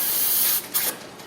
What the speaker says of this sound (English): Brake clean, spray.